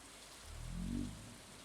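Steady rain falls on a night in the Stardew Valley video game, a soft continuous hiss with a low, swelling tone rising and fading midway through.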